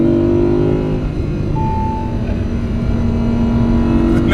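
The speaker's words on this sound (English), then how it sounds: "Can't beat the sound of a naturally aspirated engine." Naturally aspirated engine of an Audi R8 Spyder drones loudly and steadily close by, with sustained low engine tones throughout and no clear rev peaks.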